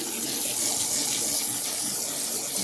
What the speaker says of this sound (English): So we'll add a little water.